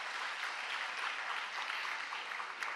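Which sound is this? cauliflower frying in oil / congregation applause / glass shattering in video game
congregation applause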